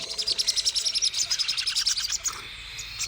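Sun conure parrot chicks chirping during hand feeding, a rapid run of close, high, insistent peeps and squeaks in quick rhythm that thins out toward the end, with no talking.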